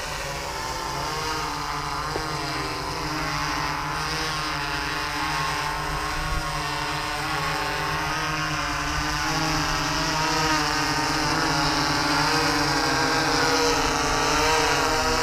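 A camera drone flies overhead with a steady, buzzing whine of rotors that holds loud and constant throughout. Layered harmonic tones drift slightly in pitch, and no one speaks.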